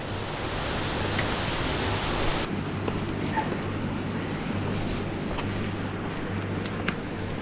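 Rushing water from the Falls of Glomach fills the air with a steady, broad roar, constant and unbroken throughout, with no voices over it.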